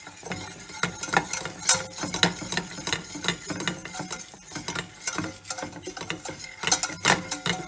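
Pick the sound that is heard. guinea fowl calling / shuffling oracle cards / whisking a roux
whisking a roux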